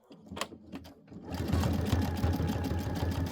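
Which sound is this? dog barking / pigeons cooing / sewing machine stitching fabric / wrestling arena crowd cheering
sewing machine stitching fabric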